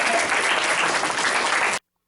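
A rousing round of audience applause, dense and steady clapping from a crowd at close range that stops abruptly.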